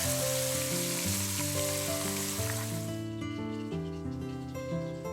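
Fish frying in a pan until crisp and golden, a broad steady sizzle that fills the clip and fades slightly near the end, heard alongside strong sustained musical tones.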